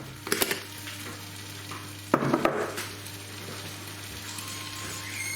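Onions with garlic and ginger paste fry on high heat for chicken karahi, a steady sizzle under a constant hum, broken by a couple of sharp metallic stirring clatters from a pan.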